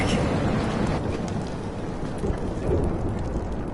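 Steady, dense rain from a thunderstorm in the Life is Strange video game pours down without a break, with low thunder rumbling beneath the hiss; no voices.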